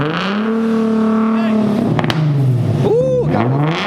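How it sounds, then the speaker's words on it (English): An Infiniti G37 with a Tomei exhaust revs up and down nearby. The loud, throaty engine tone climbs and falls in several sweeping pulls. "Rev it, brother."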